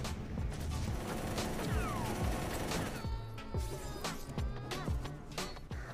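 Rapid bursts of gunfire from a battle scene in the film Angel Warriors (2013), a sustained volley of shots with sharp repeated cracks and metallic clatter, dense and loud.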